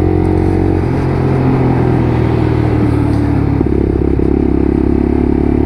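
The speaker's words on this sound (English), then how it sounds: "A little bit of rev matching just to ease that clutch up to start with." A Lexmoto LXR motorcycle engine is rev matched on a downshift while riding. The engine drones loudly and steadily, then rises in pitch partway through, with road noise underneath and no talking.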